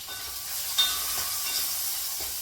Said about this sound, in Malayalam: സുപ്രിയയുടെ കടുകിന് ഭയങ്കര പൊട്ടലാണല്ലോ